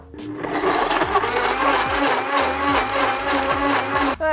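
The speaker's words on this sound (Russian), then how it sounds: "ливанем водички, и сейчас блендер все это сожрет" A blender runs loudly and continuously, its motor whirring with a rhythmic churning as mango, cheese and water are chopped and mixed, stopping abruptly at the end.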